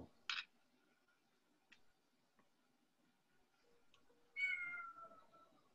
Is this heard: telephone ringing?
no